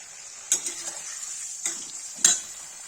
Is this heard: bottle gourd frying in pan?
yes